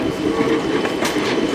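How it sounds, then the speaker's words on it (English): A South Western Railway train pulls away from London Waterloo, a steady close rumble of wheels and rail noise with a brief brighter hiss partway through, no voices. "Pulling away over there is going to be the 11:45 South Western Railway service on a London Waterloo round trip via Richmond"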